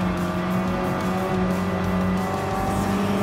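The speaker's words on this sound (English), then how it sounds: "this is very good engine sound for the Mini Cooper S" A first-generation Mini Cooper S engine in Gran Turismo Sport racing gameplay drones loud and steady, with sustained high-revving tones and hints of tire squeal throughout.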